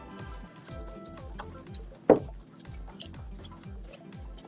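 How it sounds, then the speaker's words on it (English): Liquid tie dye is poured and stirred in a container, with a soft trickle, small drips and one sharper splash or clink partway through, quiet and close. "It's just a little easier if you stir as you pour, so that you don't get those clumps in there."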